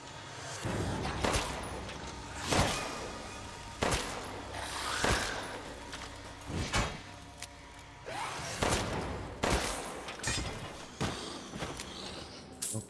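Gunfire in Resident Evil Village rings out as a dozen or so separate sharp shots at irregular intervals, each loud and punchy, with quieter thuds between them.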